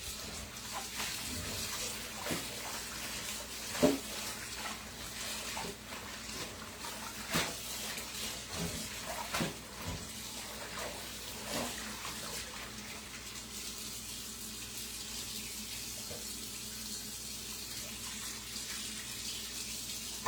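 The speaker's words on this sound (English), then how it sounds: "we gotta go through another wash and then one rinse" Tap water runs steadily into a sink while food is washed and rinsed in salted water, with occasional splashes and clunks over the constant flow.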